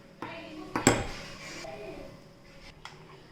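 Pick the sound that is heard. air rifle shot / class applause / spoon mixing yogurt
spoon mixing yogurt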